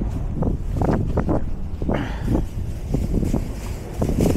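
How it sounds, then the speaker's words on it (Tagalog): Strong wind buffets the microphone in loud, uneven gusts at a fishing spot in Illawarra, Wollongong, New South Wales, with a low roar rising and falling throughout. "medyo malakas-lakas talaga tong hangin na to"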